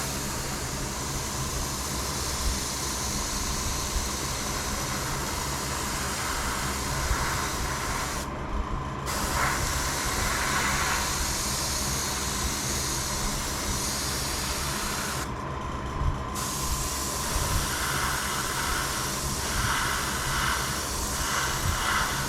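Steady airbrush hiss sprays yellow paint onto an O scale Borden's Divco milk truck model, continuous and close, with two brief pauses where the spray stops.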